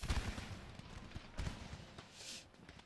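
Rolling musket volleys from successive units crackle across a Napoleon: Total War battlefield, staggered shots popping one after another at a moderate distance with a faint background din.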